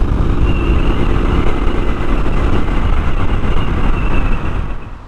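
A Triumph Street Scrambler 900 motorcycle out on a ride produces a steady, loud engine rumble blended with wind noise that holds unbroken for the whole stretch, with no one speaking.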